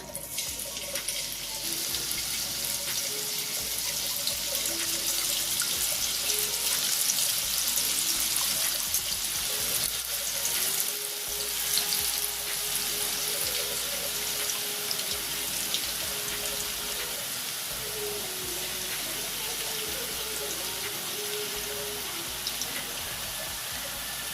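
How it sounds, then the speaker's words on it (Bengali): Fine gram-flour droplets of mihidana fry in hot oil in a wok, giving a steady, close hiss and sizzle that runs unbroken for the whole stretch. No one speaks. "এবার আমি তেলের মধ্যে মিহিদানাগুলো ছেড়ে দিচ্ছি।"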